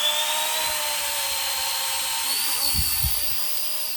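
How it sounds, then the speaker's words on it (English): A budget RC helicopter with brushless motors spooled up in flight gives off a steady, loud, high-pitched whine, with a couple of brief low thumps near the end. "pretty loud, brushless motors, so we should have plenty of control"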